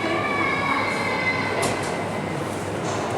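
A Eurostar train at a railway museum gives off a loud, steady rumble with high metallic wheel squeals rising over the continuous roar.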